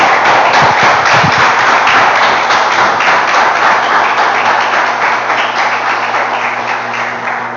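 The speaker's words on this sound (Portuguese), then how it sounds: "Você pode aplaudir ao Senhor?" Church congregation applauding the Lord during a worship service, a dense, steady wash of many hands clapping that carries on loud and unbroken throughout, easing off only slightly toward the end.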